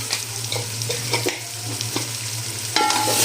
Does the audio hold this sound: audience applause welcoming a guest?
no